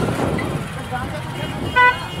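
A short car horn toot sounds once near the end, over rumbling traffic and engine noise, with a voice talking.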